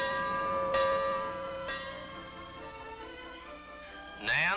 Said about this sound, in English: A gong that sounds a warning.